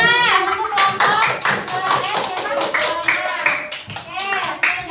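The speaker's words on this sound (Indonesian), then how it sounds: "tepuk tangan untuk kelompok" A classroom of children claps for a student group, brisk and fairly loud rhythmic clapping that keeps going throughout, with voices mixed in among the hands.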